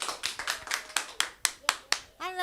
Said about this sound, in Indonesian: mari kita beri tepukan yang gemuruh untuk Pastor Louis untuk berkongsi firman-firman Tuhan